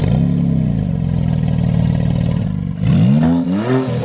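A straight-piped Porsche 911 twin turbo engine at a supercar meet, loud and close, holding a rough throaty idle before a sharp rising rev with a couple of quick blips.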